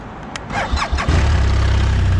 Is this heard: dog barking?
no